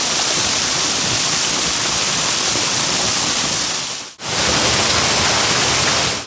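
Water pouring down a waterfall and stream in a deep sandstone ghyll in the High Weald of East Sussex, a loud, steady close rush with one brief break.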